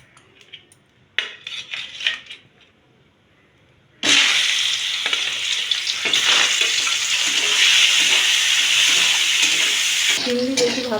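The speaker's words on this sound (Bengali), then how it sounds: "কড়াটা গরম হয়ে গেছে, এবারে একটু তেল দিয়ে চিংড়িটা ভেজে নেব।" Shrimp dropped into a little oil in a hot kadai (wok): a few light utensil clinks, then a loud, sustained sizzle erupts and keeps going strong to the end.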